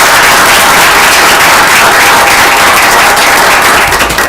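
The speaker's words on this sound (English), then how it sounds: "we'll just give one last round of applause for these guys" A room at a Barberton city council regular legislative meeting breaks into loud, dense applause, with continuous clapping that stays full and steady throughout and tapers briefly at the end.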